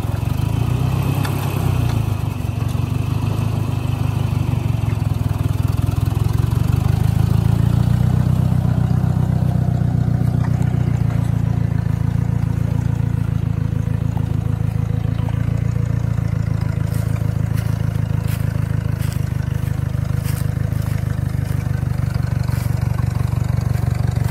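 A tractor's gas engine runs continuously for over twenty seconds, a steady low rumble at close range that swells slightly near the start before settling into an even idle-like drone.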